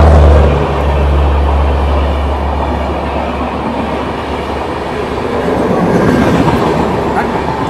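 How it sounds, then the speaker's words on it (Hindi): A Shatabdi Express train overtaking on the adjacent track produces a loud, steady, close rumble and roar with faint rhythmic wheel clatter that holds across the whole stretch. "और इधर से ओवरटेक करके जा रही है शताब्दी एक्सप्रेस ट्रेन।"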